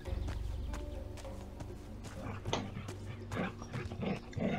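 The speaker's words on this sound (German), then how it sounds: "böser Hund, böser Vorfahre des Hundes" A wolf growls and barks in the fantasy role-playing game Risen, rough snarls and yelps over a constant low game ambience and music bed, with a few bursts of louder barking toward the end.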